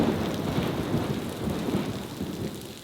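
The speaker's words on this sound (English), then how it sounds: "the rain didn't clear. If anything, it got heavier and the lightning got closer" Heavy rain pours steadily on Sentosa Island during a thunderstorm, a dense continuous hiss with low rumbling thunder rolling underneath, loud and close throughout with no voices.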